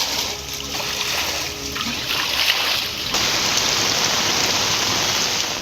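Heavy rain pours down steadily in Tiruvarur, Tamil Nadu, during Cyclone Ditwah, a dense, loud, continuous hiss of water with no gaps and no voices.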